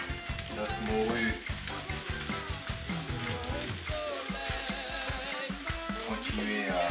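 Salt cod and onions sizzling and frying in a pan for a rougail morue, a busy crackling hiss with intermittent clinks and scraping of stirring throughout.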